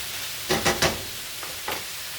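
Shrimp cooks in a pan with a soft, steady sizzle, broken by a few brief scraping stirs close by.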